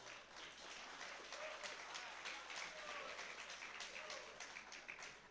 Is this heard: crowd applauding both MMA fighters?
yes